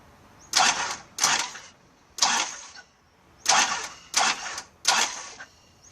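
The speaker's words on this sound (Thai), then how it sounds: "เห็นไหมครับ เราหมุนเครื่องไป" A Toyota Mighty-X with a 2L diesel engine is cranked over in six separate short bursts of starter whirring, close and loud, each lasting about half a second with brief pauses between, no voices.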